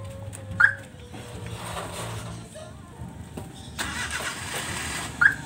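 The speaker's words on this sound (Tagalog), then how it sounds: "long press lang ang lock para mag-start yung sakyan" A Suzuki minivan is started by remote, with two sharp chirps bracketing the engine cranking and catching into a low, steady idle nearby.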